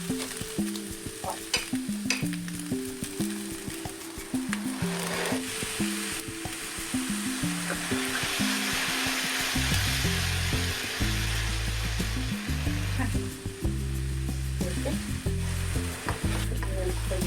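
Freshly made fragrant cream stirred into Venere black rice with tuna in a hot pan, a steady sizzle and frying hiss with scraping stir strokes, close and continuous under a background music bed.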